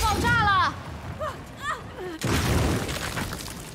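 An explosion goes off in the video game Gears 5. It is a sudden loud blast partway through that follows game voices and trails into a rumbling, crackling decay.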